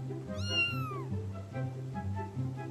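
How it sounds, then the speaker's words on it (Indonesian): A single drawn-out cat meow rises and falls over a steady, looping electronic background tune, with a few softer chirpy cat sounds after it, in GTA 5 roleplay. "Ah, kok ada kucing?"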